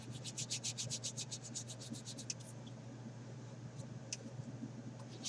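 Sandpaper rubs rhythmically over a 1/48 Trumpeter SA-16A Albatross plastic model kit, a quick run of close scratchy strokes that then stops, leaving a low steady hum.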